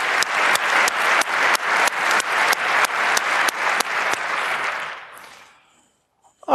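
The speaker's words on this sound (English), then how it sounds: "All right, applause for the students." An audience at a talk on internet voting security claps for students in a lecture hall. The applause is loud and sustained with rhythmic collective beats, then quickly fades to silence.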